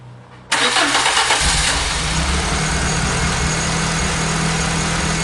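A car engine fitted with a KTR Sport throttle body kit cranks and catches after a short quiet lead-in, then settles into a loud, steady idle close by, with no voices.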